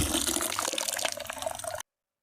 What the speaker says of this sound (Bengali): কি রস ঢালতেছে